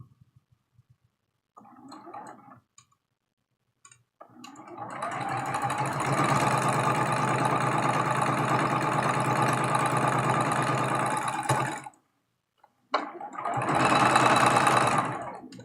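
Sewing machine stitching quilt block pieces for a tulip block, a brief buzz, then a long steady whirring run of about seven seconds, a pause, and another short run, close and clear.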